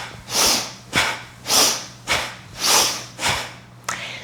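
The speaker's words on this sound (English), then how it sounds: "or bellows breath" Bellows breath practiced during a morning yoga flow, with fists closing and elbows squeezing into the ribs: seven quick, forceful nasal breaths in a steady rhythm, each a loud, close, airy whoosh with no talking.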